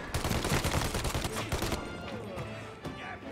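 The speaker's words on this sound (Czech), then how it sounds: "S Tomíkem se střílí na prd" Rapid bursts of gunfire in Mafia: Definitive Edition rattle loudly for about two seconds, then thin out into a few scattered shots and fading echoes.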